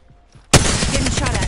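Gunfire in a video game erupts abruptly after a quiet moment: a loud, sustained burst of rapid automatic shots, close and harsh, continuing without pause to the end.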